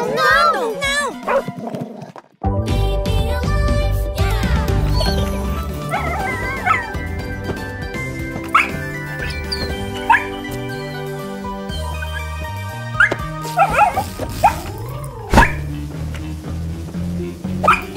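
A small dog barks, yips and whimpers in short repeated bursts beside a children's doll play scene, with people talking around and between the barks.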